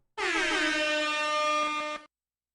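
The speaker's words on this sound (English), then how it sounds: "I have an air horn" A single loud, blaring air horn blast held for about two seconds, close and harsh, then silence.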